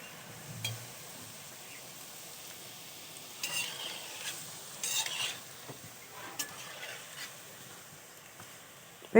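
Semolina gulab jamun sweets sizzle gently in hot oil, a quiet continuous fizz with occasional stirring scrapes and light clinks of a utensil against the pan.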